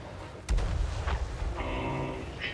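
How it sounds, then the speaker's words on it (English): Cannon fire on a fantasy battlefield in Total War: Warhammer 3: a sharp boom at the start, followed by a rumbling roll and busy battle noise, with a sustained tonal sound rising toward the end. "Cannon."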